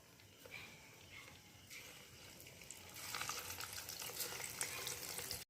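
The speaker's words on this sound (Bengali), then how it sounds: "বল আমি প্রথমে ভেজে নেবো। দেখুন এরকম লাল লাল করে ভেজে নেবো।" Vegetable manchurian balls deep-frying in oil in a pan, a soft steady sizzle that grows louder and denser partway through, close and continuous with no talking.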